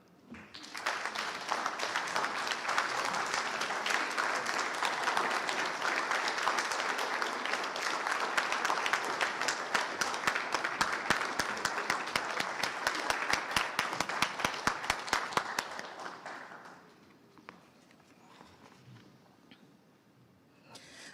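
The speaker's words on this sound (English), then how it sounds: "Please join me in another round of applause for our inductees." An audience applauds award inductees at an employee gallery induction ceremony, sustained steady clapping for about fifteen seconds that thins into scattered claps and then fades to quiet room tone.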